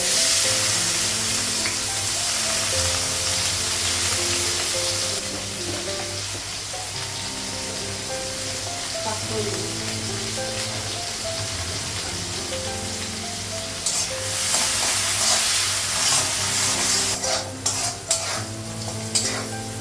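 Onion and green chili fry in a pan with a steady, close sizzle and stirring throughout, joined by a few sharper clinks and clatters near the end.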